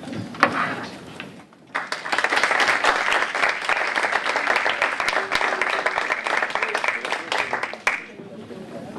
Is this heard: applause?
yes